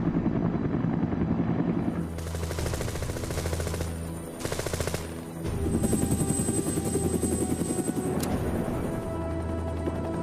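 A Huey helicopter's rotor beats in a fast, heavy rhythmic thumping, loud and continuous, with the turbine whine dipping briefly midway before resuming at full strength.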